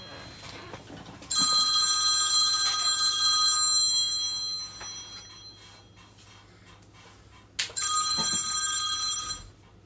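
A telephone bell rings in two long bursts, a bright metallic trill lasting a few seconds each, close by and loud, with a quiet pause between rings.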